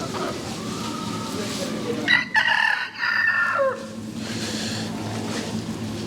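Chickens at a poultry and rabbit show crow and cluck amid a busy hall, one clear rooster crow rising in the middle over steady crowd murmur and background talk.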